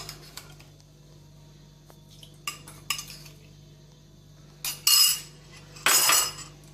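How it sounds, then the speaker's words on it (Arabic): Salt is whisked into three cups of water in a bowl for pickling brine, with scattered clinks and brief scraping bursts of a spoon against the bowl, close and fairly quiet. "هضرب كويس جدا الملح بتاعي"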